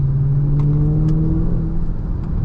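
A Dodge Charger Hellcat Widebody's supercharged engine pulling from low revs, a loud steady droning hum with a rising tone heard from inside the car, no voices.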